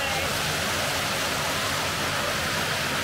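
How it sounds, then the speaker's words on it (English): A jungle river runs steadily in Central America, its broad rushing wash of water close and constant for the whole stretch, with no break in the flow. "So the river just kind of runs down through this jungle"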